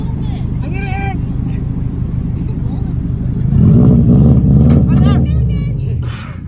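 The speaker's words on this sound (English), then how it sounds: "Gonna hook up Kayla's STI and do some all-wheel drive things." A Subaru STI engine revving on a beach while pulling a stuck car out, a loud close rumble that swells and holds around the middle, with people talking over it.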